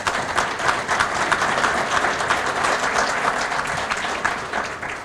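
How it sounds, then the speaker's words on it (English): Audience applause at the Genesee County GCEDC annual meeting, a dense, steady round of clapping from a large crowd filling the whole stretch at even loudness. "thank you for that applause"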